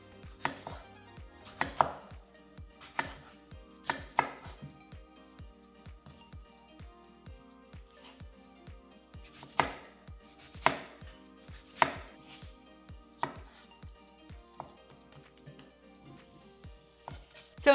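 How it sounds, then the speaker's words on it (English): A knife dices a ripe, juicy peach with a long run of quick, evenly spaced chopping taps, close and clear, with a few louder strikes scattered through. "we're gonna take one of our peaches and we're going to dice it up"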